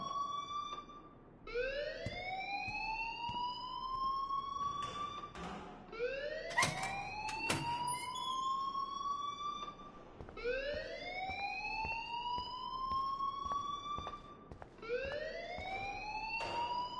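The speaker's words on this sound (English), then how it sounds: "please turn off that alarm" A school fire alarm in the video game Life is Strange wails on and on as a rising siren tone. Each sweep climbs and repeats about every four seconds, loud and continuous, with scattered clicks and no speech.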